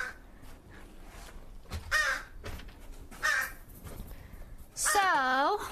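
Harsh crow caws ring out in short bursts, the last a loud drawn-out series of ragged calls, over a low background murmur.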